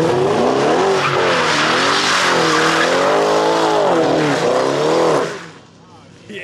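A B8 Audi S4 slides sideways with a long, loud, wavering tire squeal over engine roar, close by, then cuts off abruptly near the end.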